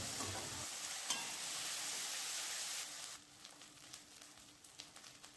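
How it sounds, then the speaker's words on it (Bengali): Ginger-garlic paste sautéing with fried onions in a pan gives a close, steady sizzle with stirring scrapes, dropping to a quieter, crackly frying sound partway through. "এবারে আদা রসুন বাটাটা আমি আরও কয়েক মিনিট ভালো করে কষিয়ে নেব"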